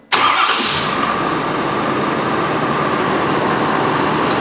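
A 2022 Ford F-350 Super Duty truck engine cranks and fires up, then settles into a steady, loud, close idle rumble with no talking.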